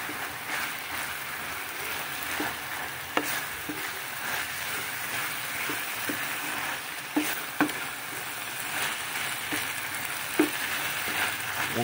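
Bamboo shoots with chili sizzle steadily in a hot pan, a continuous frying hiss with occasional scraping and stirring clicks throughout, no talking.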